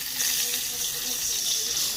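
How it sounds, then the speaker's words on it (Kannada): Water poured into roasted rava for garlic upma, a steady close rushing, splashing stream lasting the whole moment with no talk. "ನೀರನ್ನು ಹಾಕೋತೀನಿ ಇದಕ್ಕೆ ಇನ್ನೊಂಚೂರು ನೀರು ಬೇಕು ರೀ"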